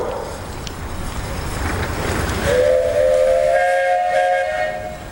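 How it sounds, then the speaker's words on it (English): A steam whistle blows at a National Threshers Association steam engine show in Wauseon, Ohio, a sustained harmonic tone rising in over crowd and engine noise and holding for several seconds. "Hey guys, you got a whistle."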